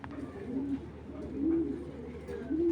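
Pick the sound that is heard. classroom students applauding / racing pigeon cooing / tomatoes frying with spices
racing pigeon cooing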